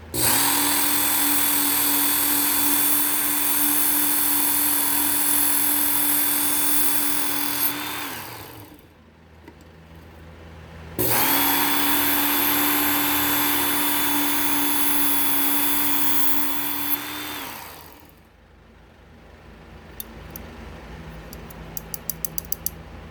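A Work Sharp Ken Onion knife sharpener grinds a blade in two sustained runs of steady motor whine, each about eight seconds long, separated by a short quiet gap.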